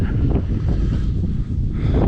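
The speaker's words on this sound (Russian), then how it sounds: "Страшный ветер." Strong wind roars and buffets the microphone in a loud, constant rush with low rumbling gusts and no other sounds, heard on a drive home.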